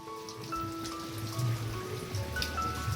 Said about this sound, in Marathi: पाऊस पण चालू आहे बाहेर